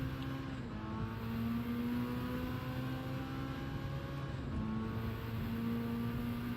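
Car engine held at full throttle in Gran Turismo 7 with traction control off, a steady droning engine note with sustained harmonics, fairly quiet and continuous, pitch shifting slightly near the middle and again toward the end.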